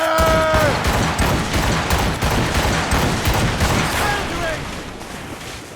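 Ship cannons in Assassin's Creed Rogue fire in a dense, loud volley of overlapping booms and cracks that rolls on for several seconds, gradually easing toward the end.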